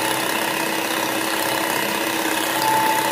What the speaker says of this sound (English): On low speed as usual, we are going to whisk this so we get a fluffy consistency